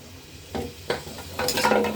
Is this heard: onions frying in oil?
yes